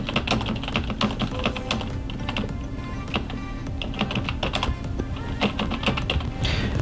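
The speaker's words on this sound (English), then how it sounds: "this keyboard feels like typing on a laptop, on one of those cheap laptops." Rapid typing on a plain HP membrane computer keyboard, soft clustered key presses in an uneven rhythm, close and clear with no voices.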